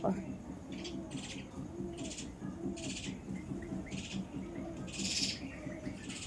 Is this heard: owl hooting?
yes